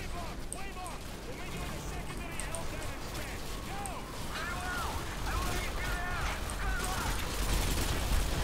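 Shotgun gunfire from the Call of Duty: Modern Warfare 2 video game, a dense, continuous clatter of shots and battle noise mixed with game voices, steady and loud throughout.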